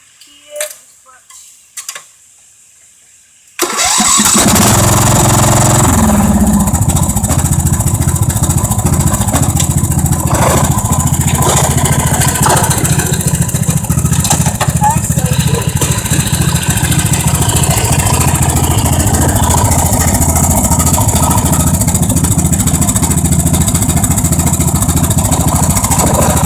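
Tractor engine cranking over and then settling into a loud, steady idle that continues throughout, after a few brief clicks and a short quiet stretch at the start.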